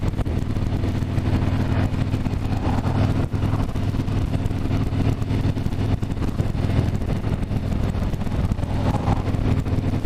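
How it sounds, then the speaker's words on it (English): Harley-Davidson Street Bob motorcycle rumbling steadily on an open road while downshifting, a loud continuous low engine drone mixed with wind buffeting, no speech. "Downshifting, people know I'm there."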